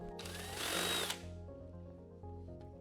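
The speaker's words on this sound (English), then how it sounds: "Use a 1/4-inch drill bit to resize the BCM mount holes." A power drill with a 1/4-inch bit whines as it enlarges mounting holes in a bracket for a vehicle body control module, a close, rising electric motor burst that cuts off, followed by a lower hum.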